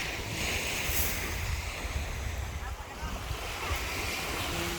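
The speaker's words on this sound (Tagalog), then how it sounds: "Yun yung dagat." Sea waves at a beach in Pola, Oriental Mindoro, with driftwood washed up after a storm, surging in a steady broad rush close by, mixed with wind buffeting the microphone.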